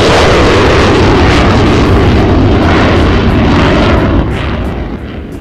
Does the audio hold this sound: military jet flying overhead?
yes